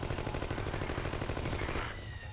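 Rapid automatic gunfire from a weapon in the video game The Conduit, aimed at flying enemies, rattling out in a dense continuous burst before cutting off near the end.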